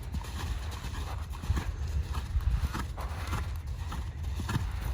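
Hooves of a young mare cantering in a Western-trained schooling session, a steady rolling three-beat thud close by, repeating evenly throughout with no talk over it.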